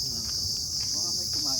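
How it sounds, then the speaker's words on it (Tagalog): Crickets chirp at a campsite in Fujairah, UAE, a steady, high, continuous trill that carries on without pause across the whole stretch, with no voices over it. "Saka may mga kuliglig."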